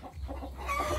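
A flock of chickens kept as livestock clucks continuously, close and fairly loud, with a few higher calls rising near the end and a low rumble underneath.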